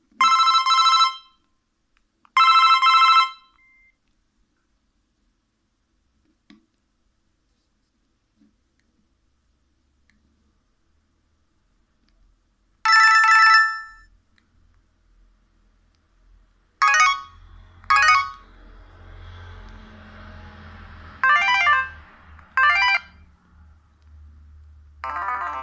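Several short electronic original ringtone melodies from a Motorola RAZR V3 flip phone play one after another, bright and tonal, separated by pauses, with a low hum under the later ones.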